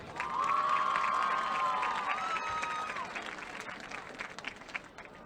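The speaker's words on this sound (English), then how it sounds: "let's give one more round of applause to these 10 beautiful young ladies" Loud crowd applause mixed with cheering and shouts fills the stands at a high school homecoming football game, with a sustained high-pitched cry riding over the clapping early on before the noise gradually thins out.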